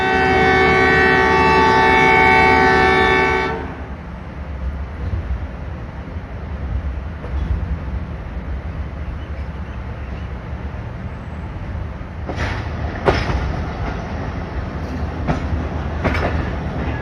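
Shaheen Passenger train running on tracks in Pakistan: a steady loud rumble of wheels and carriages, opening with a long sustained horn blast that cuts off after a few seconds, then brief clanks further on.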